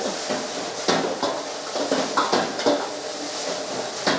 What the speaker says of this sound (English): chef used the technique for the frying with the wok